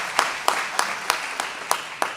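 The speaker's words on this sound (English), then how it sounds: "So another round of applause for Madam PS." Applause for a speaker at a social entrepreneurship conference, heard as a slow, evenly spaced run of about seven distinct claps, fairly close and moderately loud, with no sustained crowd roar.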